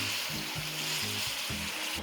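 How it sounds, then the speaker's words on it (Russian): Beef pieces frying in a hot pan give a continuous close sizzle, broken by a few soft rhythmic scraping stirs, with no voices. "оно быстро обжаривается"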